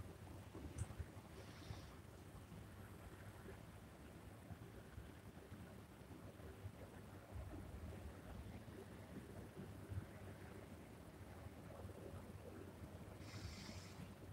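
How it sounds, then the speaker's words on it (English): Strong wind buffets the microphone outdoors with a constant broadband rush and occasional gusts, heard alone and close throughout. "I keep hearing the wind is just crazy at the moment"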